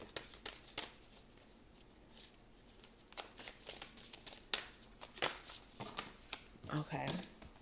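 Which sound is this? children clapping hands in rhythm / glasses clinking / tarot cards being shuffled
tarot cards being shuffled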